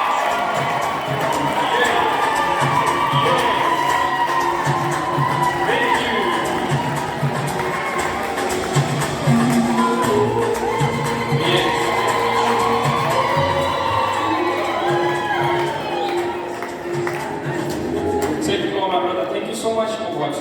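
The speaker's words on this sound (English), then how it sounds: "Get up with applause, ladies and gentlemen." A crowd at a school opening ceremony applauds and cheers, loud, dense and continuous for the whole stretch, with shouts and voices mixed in throughout.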